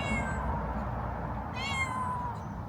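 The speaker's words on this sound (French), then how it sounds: "Il y a ce chat qui me fait chier" A cat meows several times, the calls standing out over steady background noise, with nobody speaking.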